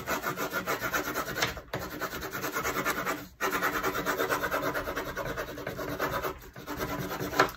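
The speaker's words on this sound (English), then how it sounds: "But I just take a bone folder and kind of rub" A bone folder rubs back and forth over paper laid on linoleum in rhythmic, close scraping strokes, broken by two brief pauses, with no talking.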